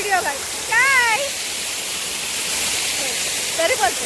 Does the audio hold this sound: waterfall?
yes